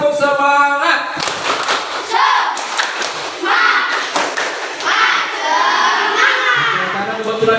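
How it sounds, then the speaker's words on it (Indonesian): A classroom of children performs the tepuk semangat clapping chant, with rhythmic group claps and shouted chant syllables mixed with crowd voices, loud and close. "Tepuk semangat."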